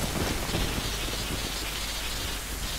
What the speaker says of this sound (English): So for some reason it started raining incredibly... Yeah, a lot of rain. Lightning strikes